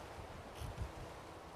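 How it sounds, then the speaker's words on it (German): Wind blowing by the sea in Fallout 4, a continuous broadband whoosh with a couple of low gusty swells midway, steady and fairly soft, with no one talking. "Aber dabei ist das nur der Wind wohl."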